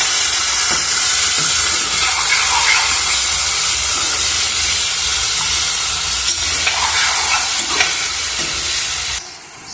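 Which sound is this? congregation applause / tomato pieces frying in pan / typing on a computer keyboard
tomato pieces frying in pan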